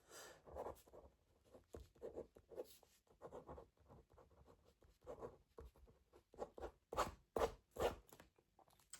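A pen scratches out notes on sticky notes in quick, uneven strokes, close and fairly quiet, with brief pauses between the bursts of writing.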